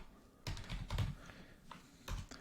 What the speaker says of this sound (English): I type in the sprint management